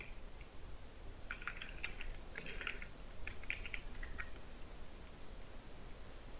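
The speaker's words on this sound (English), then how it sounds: "I'll type title name" Someone types on a computer keyboard in short bursts of quiet clicking keystrokes with brief pauses, faint against a low steady room hum.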